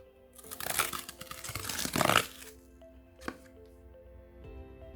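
The hinged cardboard tab of a box for an official Samsung Galaxy S20 Plus leather case is pulled open, giving a close crinkling, papery rustle that swells for about two seconds, then a single short scrape and light handling noise.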